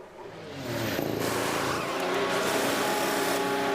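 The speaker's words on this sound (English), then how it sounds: "into the pits comes Perez" A Formula 1 car in the F1 Manager 23 racing game entering the pit lane, a steady engine drone rising slightly in level and holding for a few seconds.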